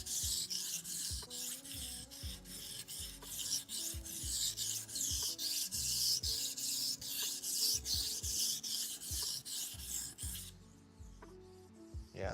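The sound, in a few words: blade being sharpened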